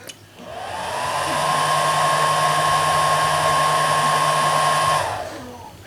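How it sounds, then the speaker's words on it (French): Two cooling fans in an ISDT D2 dual battery charger spinning up during a system check, a loud steady whirring hum with a tonal whine that holds for about four seconds, then winds down. "les deux ventilateurs se sont mis en route, ça fait vraiment pas mal de bruit"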